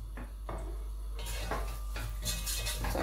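Onions being stirred in a pot for cornmeal with vegetables, quiet metallic utensil scrapes and clinks against the pot over a soft background hum, with a low sizzle.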